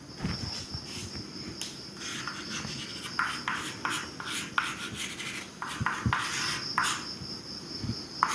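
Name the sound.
teacher writing on a board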